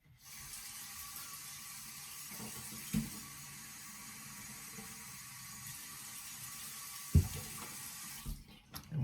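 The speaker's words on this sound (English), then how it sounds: "just fill it with water, just to cover the chicken" Tap water runs steadily into a bowl holding raw chicken pieces, a constant hissing stream with a couple of brief clunks, near and unaccompanied by talk.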